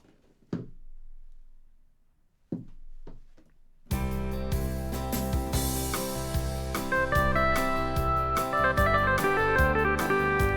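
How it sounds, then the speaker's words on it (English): A full country pop backing pattern from a Yamaha DGX-670 arranger keyboard with a pedal steel voice rings out loud and dense over drums and bass, entering after a few sparse, isolated notes. "That's a pedal steel,"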